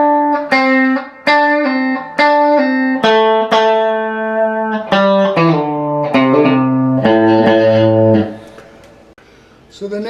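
An electric guitar plays a solo slowly, a clean sequence of distinct plucked notes with bends and slides in a steady rhythm, loud and close, ending on a held note before a brief pause.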